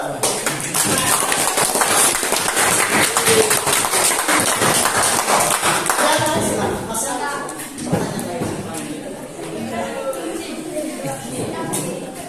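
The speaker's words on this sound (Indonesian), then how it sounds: "Kita tepuk tangan dulu." A classroom group in a Catholic religious education lesson claps together, a dense, steady patter of many hands that fills the room, then thins out as talk and chatter rise over the last few seconds.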